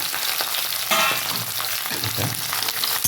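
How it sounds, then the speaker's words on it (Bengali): Banana stem and papaya pieces for shukto frying together in oil, a bright steady crackling sizzle with a surge of spitting near the start and occasional stirring scrapes, no talk. "কলা ডাঁটা পেঁপে সব একসাথেই আমি ভেজে নেব"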